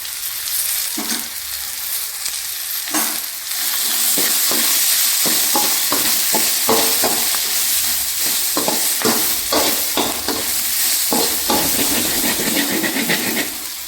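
Ginger stirred and fried in a pan for beans curry, a steady loud sizzle with repeated scraping strokes of a spoon against the pan, no talking.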